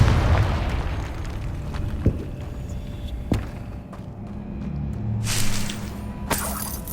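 Confringo blasting spells go off in Hogwarts Legacy, a few sharp booming explosions separated by seconds over a rumbling game soundscape with scattered crackles and bursts.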